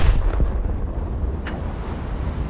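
A video game battleship gun salvo from the Scharnhorst: a deep, booming gunfire burst rumbles at the start, then low rolling echoes and a distant crack follow.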